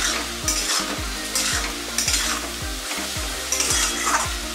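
Chicken with chopped tomato, green chilli and turmeric is stirred in a sizzling pan, with a spoon scraping in repeated rhythmic strokes over a constant frying hiss.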